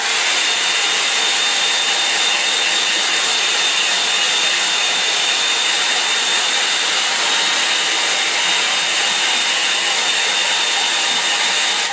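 A hair dryer runs steadily to dry a watercolour painting, giving a loud, continuous whooshing whir that holds at an even level throughout with no talking.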